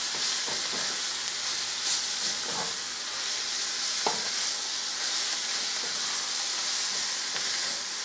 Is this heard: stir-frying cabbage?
yes